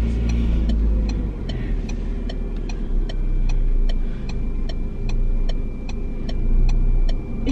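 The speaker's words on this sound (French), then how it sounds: "Hop, une voiture derrière, je mets mon clignot." Car turn signal clicking inside the cabin while driving, a steady, regular tick repeating about every half second over low engine and road rumble.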